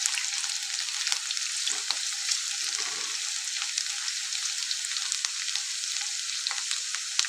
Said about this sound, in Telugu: ఇప్పుడు మన ఆనియన్స్ అయితే మంచిగా ఫ్రై అవుతున్నాయి